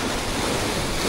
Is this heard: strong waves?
yes